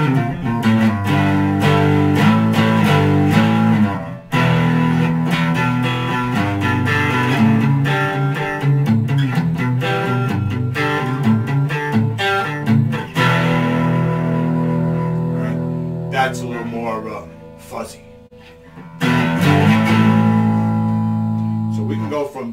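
Heavily overdriven electric guitar played through a Behringer Tube Screamer clone overdrive pedal plays thick distorted chords and riffs, with brief pauses and ringing sustained notes.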